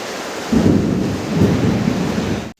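Heavy rain pouring in a dense hiss, with deep rumbling thunder rolling underneath, then cutting off abruptly.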